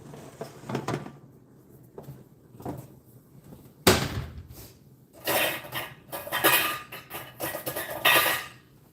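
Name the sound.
pots and utensils clattering while straining noodles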